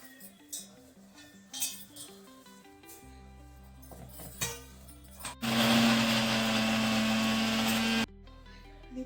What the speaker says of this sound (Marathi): आता हे मी सारं मिक्सरच्या भांड्यात काढून घेते